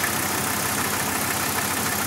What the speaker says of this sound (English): That's a diesel.